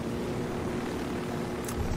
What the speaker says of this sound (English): Fucking helicopter, so stylish